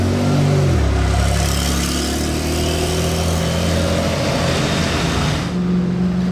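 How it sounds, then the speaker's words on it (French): Porsche Turbo engine on a Monaco street, loud and close, a deep idling rumble that drops in pitch and then holds a steady growl throughout. "Elle fait pas mal de bruit cette Porsche Turbo"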